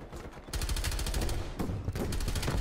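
Hand cannon gunfire in Black Ops Cold War, a rapid burst of sharp repeated shots after a brief pause, loud and close with dense overlapping reports.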